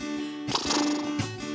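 A person's voice imitates a horse in a brief, playful call lasting under a second, set among a children's farm-animal song and sung between other phrases.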